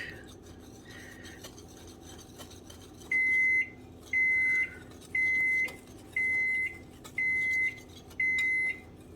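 Oven signalling it has finished preheating, six evenly spaced loud electronic beeps in a steady rhythm over a quiet kitchen background, no talk.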